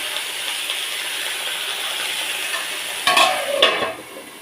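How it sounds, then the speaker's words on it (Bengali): Vegetables for sukta being stirred in a pan after the lid comes off, a soft continuous sizzle followed by a few louder scraping stirs near the end, no voices. "আবার ঢাকনা খুলে দিয়ে আবার একটু নেড়ে নিলাম"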